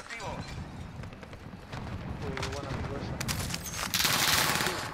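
Rapid bursts of gunfire from below in a shooter video game, dense and continuous over a low rumbling din, growing louder toward the end, with a voice talking faintly underneath.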